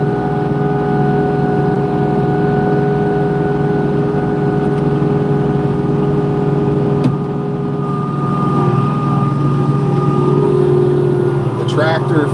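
A Kubota LX2620 HSDC cab tractor pushes snow with a front-mounted Titan snow blade, its engine a steady, loud drone throughout with little change in pitch.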